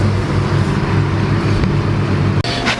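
A 2019 Ford Mustang GT V8 driving off toward canyon roads, with a low, steady engine rumble and road noise heard from inside the car and a brief dip near the end.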